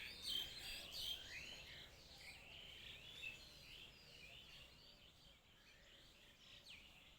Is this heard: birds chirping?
yes